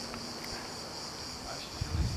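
Faint, steady high-pitched chirping of crickets in quiet outdoor air in Sicily, with a soft rustle near the end.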